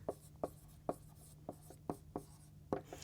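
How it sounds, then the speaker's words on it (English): Pen taps and short scratches of writing a page number by hand, a series of distinct soft strokes in an uneven rhythm, close up over a low steady hum. "And I write the number of the page."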